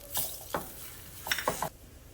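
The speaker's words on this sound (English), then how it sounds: "Now you'll just want to saute and cook this over a medium heat until the onions are translucent and everything is softened and cooked." Finely chopped onion, green bell pepper and celery sautéing in a pan over medium heat, with a faint steady sizzle and a few distinct scraping stirs from a utensil, no one talking.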